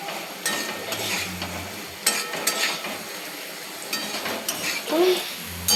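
Potatoes frying in a home kitchen pan, a steady crackling sizzle with scraping stirring and occasional metal clinks of a spatula against the pan, close by with no talking.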